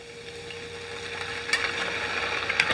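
Mushrooms sizzle steadily in a pan after a splash of French dry white vermouth, a close, even hiss with a few sharper crackles and stirring clicks toward the end and no talking.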